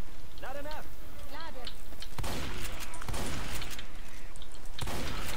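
Gunfire in the video game Left 4 Dead 2, several loud, sharp shots and short bursts over a constant game background, with a voice talking in German before the shots.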